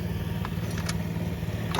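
A Ford Jubilee tractor engine idles with a steady low mechanical thrum, moderately loud and close, with faint clicks and a rising burst at the very end.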